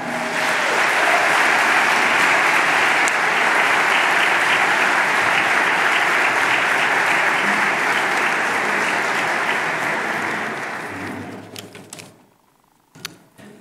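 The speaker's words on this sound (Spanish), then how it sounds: "Pido un fortísimo aplauso para don Manuel Llamas Fraga." A banquet audience at a Spanish award dinner, the Premio Juan de Mariana presentation, gives loud sustained applause for a speaker for about eleven seconds before it thins out into a few scattered claps.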